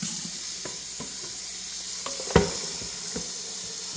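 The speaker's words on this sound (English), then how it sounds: "And I'm going to rinse it off real quick" Water runs steadily into a kitchen sink as food is rinsed beneath it, a constant hiss with a few brief knocks and clatters, including one sharper bump near the middle.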